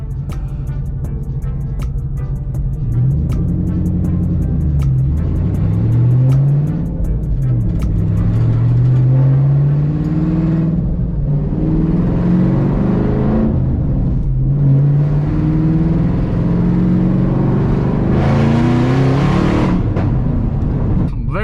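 A straight-piped Shelby GT500's loud, rumbling V8 exhaust drones and revs up and down repeatedly, rising in pitch with each pull, continuous and close throughout.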